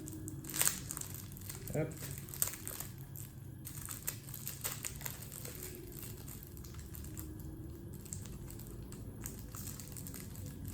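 Crinkling and crushing of plastic wrap as board game packages are unwrapped, close rustles in scattered bursts while people talk in French and one voice calls out briefly.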